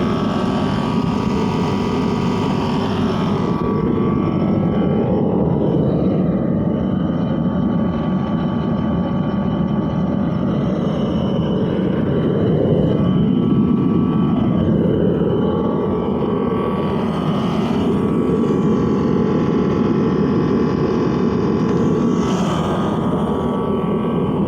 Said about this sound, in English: So you hear the noise it makes. It has essentially a motor, a single-phase motor, and an air blower